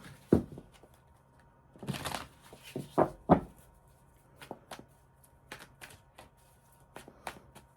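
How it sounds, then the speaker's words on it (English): Tarot cards are riffled and shuffled nearby in a few quick papery bursts, followed by scattered soft taps and flicks. "Giving the cards a good shuffle here."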